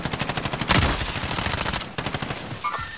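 Rapid automatic gunfire in a Call of Duty Warzone firefight, a steady rattling string of close shots with one heavier burst near the start, tapering off toward the end.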